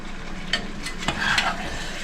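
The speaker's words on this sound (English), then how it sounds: "go ahead and stir." A spoon stirs a stew in a pot over medium-low heat, giving a few soft scraping strokes against a low simmering sizzle, close and fairly quiet.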